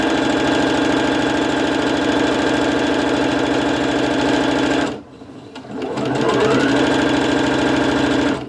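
A sewing machine stitches a rolled hem with a roulotté presser foot, running as a steady close whir with fast needle rhythm, then briefly stopping and starting again with a few rattling clicks before resuming at full speed.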